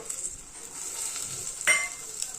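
Peanuts, tomato, turmeric and asafoetida being sautéed in a pan for masala rice, a soft steady sizzle with a light utensil scrape, close and moderate in level, no one speaking.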